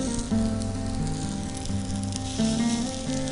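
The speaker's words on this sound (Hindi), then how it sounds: "तवे पे तेल डालेंगे और ये कबाब तवे पे रखेंगे।" Kebabs shallow-fry in oil on a hot tawa with a continuous, dense sizzle and crackle. The sound is close and steady, with no voices.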